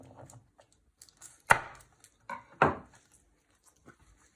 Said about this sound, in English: And you carry on doing your garlic cloves. So you chop your ends off first.